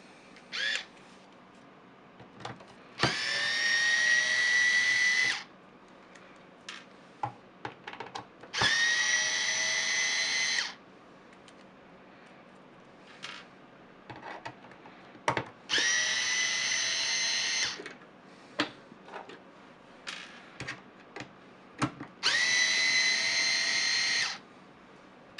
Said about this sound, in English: Alright, now to removing the screws here.